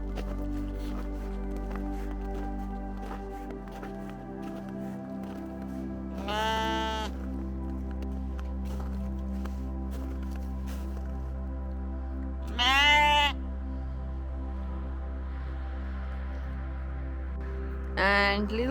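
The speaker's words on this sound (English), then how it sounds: "So now in the left side we have our sheeps." Sheep in a farm stable in Lapland bleat three times at spaced intervals, each call wavering and fairly close, over a low steady hum of stable machinery that drops partway through.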